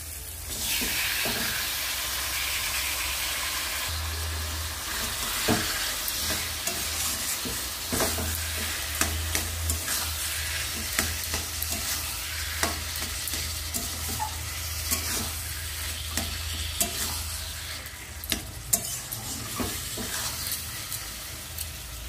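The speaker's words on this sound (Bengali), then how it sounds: "এবার আমি নেড়ে নেড়ে জলটা একদম শুকিয়ে নেব।" Boiled taro leaves stirred in a pan with fried shrimp nearby to cook off the water, a steady hiss of steam and sizzle under repeated scraping and clanking of a spoon against the metal, close and continuous without talk.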